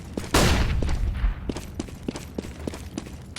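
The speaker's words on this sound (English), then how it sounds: "I'm throwing a flashbang." A flashbang grenade is thrown in Counter-Strike: Global Offensive on the Cache map. A sharp burst sounds early, followed by a string of light, regularly spaced taps like footsteps. Game sound only, moderately loud, with no voices.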